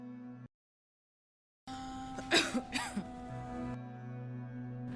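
A woman coughs in a rough cluster of three or four bursts, close and fairly loud, after a short silence and over a soft background drone.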